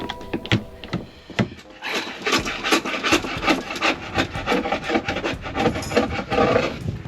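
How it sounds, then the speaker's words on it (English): Wood being scraped by hand rather than sanded, repeated rasping strokes in a steady back-and-forth rhythm, close and fairly loud, with no talk. "why sand when you can scrape?"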